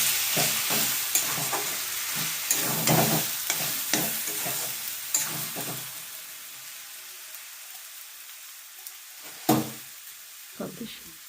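Beans, potatoes and cabbage sizzle in a pan as a spoon stirs them in scraping, clattering strokes, the frying fading to quieter sporadic scrapes, while someone talks over it.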